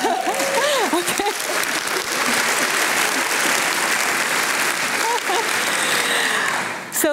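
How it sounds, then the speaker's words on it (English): An audience at an academic year opening ceremony applauds loudly and continuously for several seconds, with a few whoops and cheers rising briefly above the clapping. "Applause hard enough for you?"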